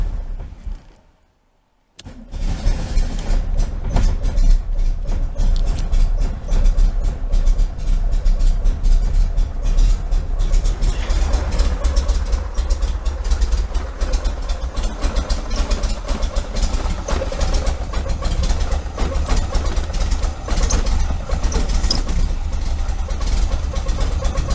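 A 1973 VW Super Beetle engine with a Dellorto FRD 34 carburetor cranks, catches and then idles low, a loud steady rumble with a rough, even pulse that runs on unbroken.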